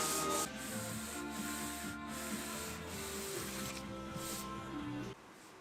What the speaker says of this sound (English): I did it all by hand using 240 grit paper